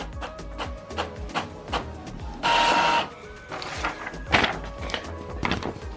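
An Epson XP 5200 inkjet printer printing a test page, with repeated mechanical clicks and thumps of the paper feed and print head and a short whirring burst in the middle, close and moderately loud.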